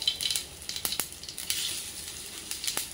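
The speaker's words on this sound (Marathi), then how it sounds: "मंद गॅसवर आपण ती फ्राय करून घेऊया।" Colocasia-leaf rolls (alu vadi) fry gently in a spice tempering over a low flame, giving a soft, steady sizzle with light crackles and a few stirring taps. The sound is close but quiet.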